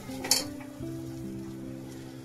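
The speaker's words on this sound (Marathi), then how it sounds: "चांगला वाटण परतून घेऊया" Ground masala paste sautés in a pan with a soft, low sizzle and a steady hum, marked by a brief scrape of a spoon near the start; no talking.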